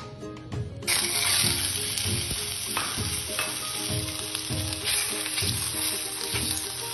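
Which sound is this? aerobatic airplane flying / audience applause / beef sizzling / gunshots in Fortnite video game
beef sizzling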